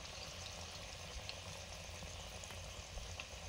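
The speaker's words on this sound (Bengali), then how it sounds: "চিকেন পকোড়া ভাজা শুরু করেছি।" Chicken pakora made with country rooster pieces frying in hot oil, a steady dense sizzle and bubbling that holds evenly throughout without talk.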